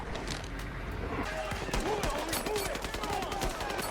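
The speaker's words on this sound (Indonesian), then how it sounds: "polisi langsung menggerebek lokasi tersebut dan terjadilah tembak-tembakan" Rapid bursts of gunfire crackle through a dense, busy film soundtrack during a police raid shootout in the movie Shot Caller, the sharp shots repeating irregularly over a steady background.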